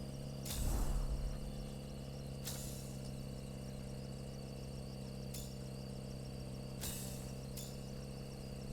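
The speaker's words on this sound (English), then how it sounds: "Car sounds a bit broken." A damaged, dented rally car engine in a racing simulator drones and whines steadily with a constant high mechanical tone, punctuated by a few sharp clunks and bangs, heard without talk.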